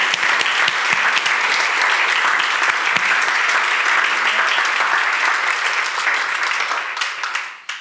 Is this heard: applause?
yes